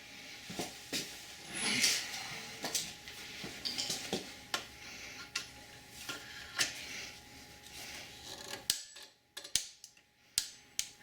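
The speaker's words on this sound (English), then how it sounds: "we're just going to tighten it slightly with our torque wrench, which is calibrated at 25 Newton meters" A torque wrench tightening the oil filter housing to 25 Nm on a 2020 Land Rover Defender P400 petrol engine, giving a quiet run of close, rhythmic ratchet ticks with a few sharper clicks near the end.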